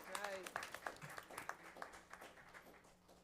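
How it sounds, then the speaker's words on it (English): Applause for a boys' track team, state runner-ups, breaks out at a school board meeting: faint scattered clapping from a room, brief and soft, with a voice at the start. "Let's give our track team a round of applause."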